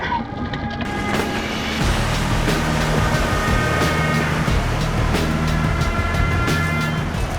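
A 4WD vehicle pushes through a deep water crossing near Lithgow, its engine roaring under a loud, continuous wash of churning and splashing water that swells after the first couple of seconds.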